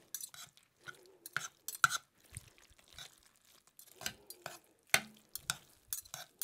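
Two forks pulling apart a tender chipotle pot roast in sauce, giving soft, wet scraping and squelching bursts in an irregular rhythm, close and fairly quiet.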